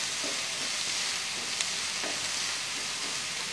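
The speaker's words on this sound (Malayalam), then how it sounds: "കുറച്ച് ഫ്ലെയിം കൂട്ടിയിട്ട് ഒന്ന് ഇളക്കി കൊടുക്കണം" Onions sauté in a pan for an egg thoran, with a constant close sizzle and a few soft scrapes from stirring.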